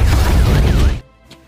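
A building explosion in a Japanese-Korean gangster action film erupts as a loud, dense broadband crash and rumble, then cuts abruptly to near silence with a faint trailing knock.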